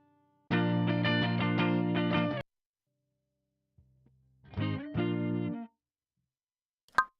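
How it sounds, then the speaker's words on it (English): Electric guitar through a distortion effect, a thick sustained chord ringing for about two seconds, then silence, a few muted notes and another distorted chord, ending with a short sharp click. "And then the distortion kicks again."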